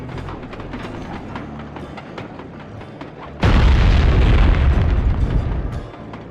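An explosion as a train caboose is blown open in the video game Sly 2: a loud, sudden boom after a steady rumbling game backdrop, with the blast roaring on for about two seconds before fading.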